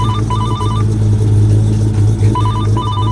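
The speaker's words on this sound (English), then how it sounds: "Let his phone ring there." A telephone rings twice in a repeating electronic ring pattern, close and loud, over the steady low hum of a running car engine.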